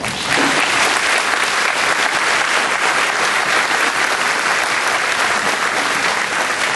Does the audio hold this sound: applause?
yes